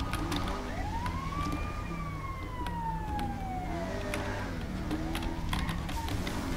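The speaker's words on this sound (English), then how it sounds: "Those are Lego sirens." A Lego-style emergency siren in a game wails, rising and falling in long sweeps over a steady traffic rumble, fairly close and continuous.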